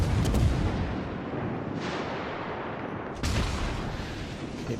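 Heavy cruiser Hipper's main guns fire in the naval video game World of Warships, loud booming salvos with rumbling tails, one at the start, another near two seconds and a third near three seconds.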